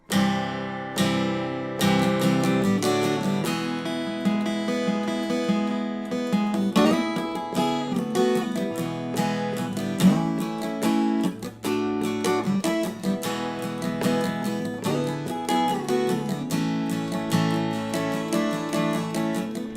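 Fingerstyle guitar plays an intro riff, with harmonized sixths ringing over droning notes, a steady strummed rhythm, close and clear with no voice.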